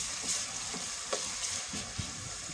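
Ginger garlic paste frying with onions in hot oil in a pan for kadhi pakora, a steady close sizzle with soft stirring scrapes and a few sharper pops, no talking.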